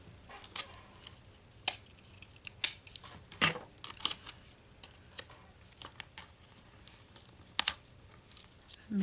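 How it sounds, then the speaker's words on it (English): Tape is pulled and torn in short, sharp, scattered bursts at close range while a journal spine is taped down, quiet between tears. "Let's tape that down like that."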